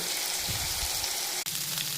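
Chicken frying in a pan with egg and fried potato for chowmein, a steady close hiss and crackle of sizzling oil with low stirring rumbles and a brief drop in the middle.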